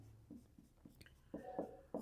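Pen or marker writing out a maths solution about 1/√2 being rational, heard as a series of short scratchy strokes in separate bursts, louder toward the end, with no talking.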